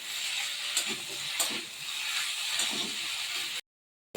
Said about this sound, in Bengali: এখন একটু ভেজে নিলেই হয়ে যাবে আজকের একাদশী ঘুগনি